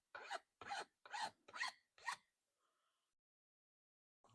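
A hand file rasps against the corners of a knife guard in five evenly spaced, strong strokes, close and alone, followed by a brief quiet pause.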